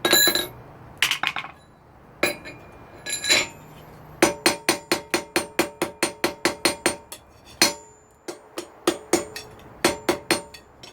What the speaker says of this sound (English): Gonna shift to a lighter hammer on this so that I don't overshoot it.